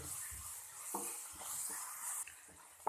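Onions sautéing in a pan with salt for an iftar dish, a steady close sizzle broken by several soft scraping stirs and light clinks of a utensil against the pan, with no talking.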